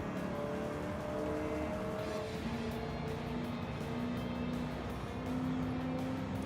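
A race car in the Gran Turismo video game accelerates along a long straightaway, its engine a steady sustained drone with rising tones, continuous throughout without talk.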